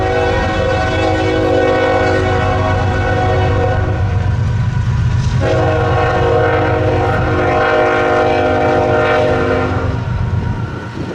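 Freight train hauled by GE Evolution locomotives rolling past a busy junction, a loud continuous rumble and wheel noise with a sustained multi-tone horn blaring almost throughout, briefly pausing mid-pass.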